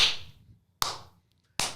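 Three sharp, separate claps ring out close by at a slow, even pace, each snapping loudly and then dying into near silence before the next, with no voices.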